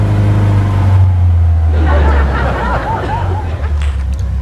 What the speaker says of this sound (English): now that the car is started, we're letting it warm up